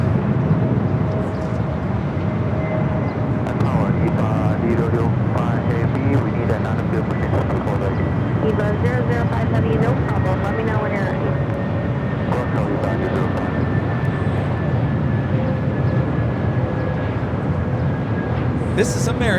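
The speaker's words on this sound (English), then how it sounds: "This is American Airlines 1526 coming in from Dallas Fort Worth on the A321neo." An American Airlines Airbus A321neo arrives from Dallas Fort Worth at LAX, its steady jet roar holding loud and close throughout, with a thin engine whine on top and people chattering underneath.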